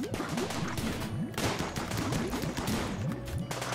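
Gunfire from ranged colonists in the video game RimWorld, with repeated rapid shots crackling over a dense, busy game soundscape and steady background music, loud and continuous throughout.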